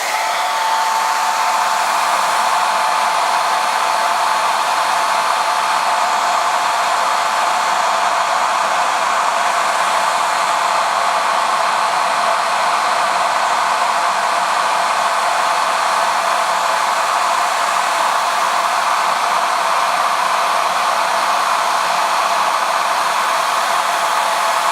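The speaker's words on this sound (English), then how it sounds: "I can stop using my hairdryer as soon as the sheen is off" A hair dryer blows steadily and loudly on crackle finish paint, a constant whooshing drone with a faint motor whine running without pause and no voices.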